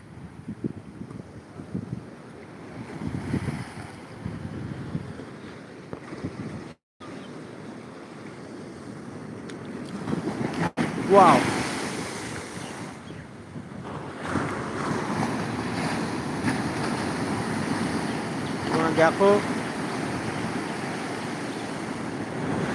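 Large sea waves keep rolling and breaking along the shore, a sustained roar of surf with swells building to louder crashes, heavy wind noise on the microphone throughout.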